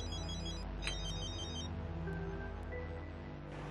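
A telephone rings with a steady electronic tone, fairly quiet and alone, with no one talking.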